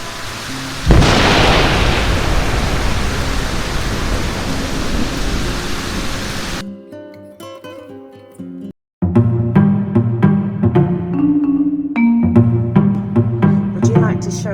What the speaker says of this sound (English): after that it started raining and thundering.